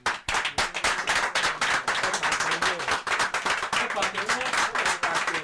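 A crowd of people claps for the people of Ibadan, rhythmic, fairly loud hand claps repeating steadily in a quick beat, with voices mixed faintly underneath.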